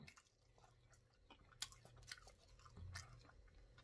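Pork neck bones chewed in a soul food mukbang: quiet, close, wet chewing and occasional crunchy bites, uneven in rhythm, with no talking.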